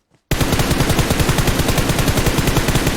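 Rapid automatic gunfire in a video game shootout, a loud, unbroken stream of fast, evenly spaced shots that bursts in suddenly after a moment of near silence, with no talk over it.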